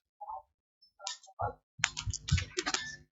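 Several quick, close clicks on a computer while opening a job notification online, sharp and dry, arriving in a short irregular burst after a few isolated taps.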